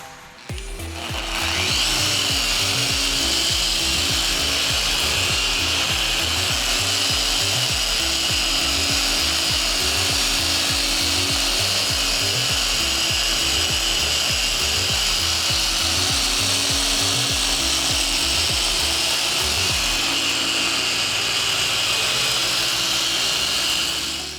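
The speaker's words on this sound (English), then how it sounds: "we're gonna see where one cutting pass gets us" A machine polisher makes a cutting pass over Mercedes car paint during a two-step paint correction, running as a loud, steady whir with rhythmic rubbing pulses for about twenty seconds, close up and with no speech.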